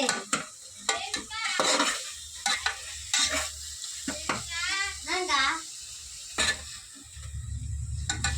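Tomatoes sautéing in a pan for biryani, with a steady sizzle and repeated stirring scrapes, while a voice and other voices chatter intermittently over the cooking.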